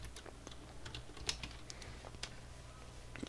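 Quiet, scattered clicks of typing on a computer keyboard, irregular single keystrokes over a low background hum.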